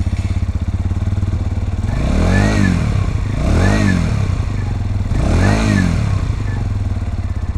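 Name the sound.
Lexmoto Detroit motorcycle engine starting and idling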